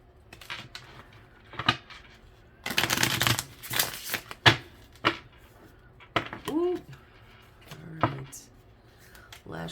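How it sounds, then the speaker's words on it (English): A tarot card deck is shuffled by hand in repeated riffling bursts, with one long dense riffle in the middle, while someone talks quietly between the shuffles. "Last shuffle here."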